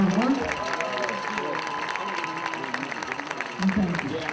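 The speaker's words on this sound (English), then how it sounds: "Let's give a big round of applause to both teams for all their hard work." Football game crowd applauding both teams at a high school stadium, Franklin versus Oil City, a broad steady wash of clapping with scattered cheers and a low background voice, moderately distant.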